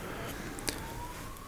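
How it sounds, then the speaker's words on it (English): A faint emergency vehicle siren wails in the distance, its tone slowly rising beneath a steady wash of background noise. "Sorry about the fucking sirens,"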